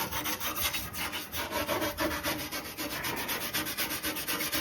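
Rust-damaged steel bulkhead on a 1985 Land Rover Defender 90 being cleaned up by hand, giving a steady, rhythmic scraping and sanding rasp of rapid back-and-forth strokes, close and continuous with no talking.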